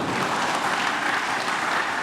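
An audience claps at a welcoming gathering for the Minister of Religious Affairs at UIN Ar-Raniry, producing a uniform wash of applause that stays loud and unbroken throughout.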